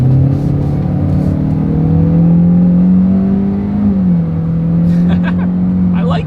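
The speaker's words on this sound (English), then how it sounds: "Let's go ahead and do a quick little acceleration, see how quickly we can get this new 2020 Elantra here up to speed." A 2020 Hyundai Elantra with its basic engine accelerating in sport mode, heard from inside as a loud steady engine drone that rises smoothly in pitch, dips briefly as it shifts, then climbs again, with a few faint clicks.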